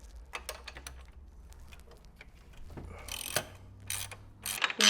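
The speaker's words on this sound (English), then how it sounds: "So what we'll do, we'll take this bolt out. That's a 15mm." A hand ratchet working a 15mm bolt loose on a car's supercharger after 150k miles, giving rapid close clicking strokes with metallic clanks and scrapes, growing louder toward the end.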